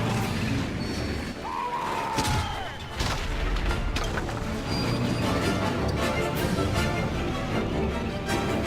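Tank assault from the First World War game Valiant Hearts: dull booms and artillery blasts roll across a dense battlefield din, with scattered crashes and gunfire and a brief whistling shell arc, loud and continuous throughout.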